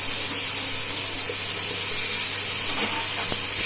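Tomatoes and yogurt hissing in a hot pan for mutton biryani, a steady loud sizzle and steam hiss with a few faint clicks near the end.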